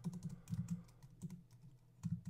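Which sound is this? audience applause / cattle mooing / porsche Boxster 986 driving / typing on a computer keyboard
typing on a computer keyboard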